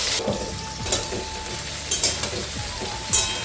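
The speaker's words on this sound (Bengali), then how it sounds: "দিয়ে একটুখানি পাঁচফোড়ন দিলাম, ফোড়নে সবজিগুলো ছেড়ে দিলাম।" Vegetables hit hot oil tempered with panch phoron for a home-cooked Lakshmi puja meal, giving a steady, moderate frying hiss punctuated by light utensil taps.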